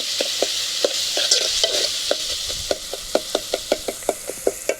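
Masala for a squid curry being stirred and sautéed in a pan, a steady sizzle under a rhythmic run of sharp spoon scrapes and taps that grow regular and more distinct toward the end, close and fairly loud, with no talking.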